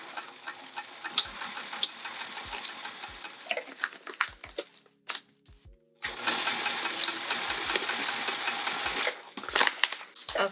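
A sewing machine stitches a fabric sling in two continuous runs, broken by a short pause of near silence with a few faint clicks partway through.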